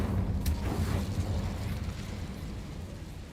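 Fire spell Incendio cast in Hogwarts Legacy, a brief crackling burst at the start that settles into a low rumbling roar and fades steadily over a few seconds.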